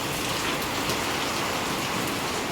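Heavy monsoon rain falls outside in a steady, dense hiss of drops on surfaces, loud and unbroken throughout with no voices.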